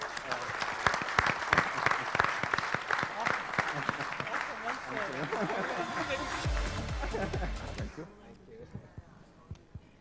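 An audience at a business conference on scaling Indian internet companies claps in steady, dense applause that fades out after about eight seconds, a voice heard over it.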